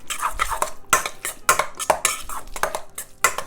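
Stuffed mushroom filling with lemon juice is stirred in a bowl, and a utensil scrapes and clinks against the dish in quick, close, uneven strokes.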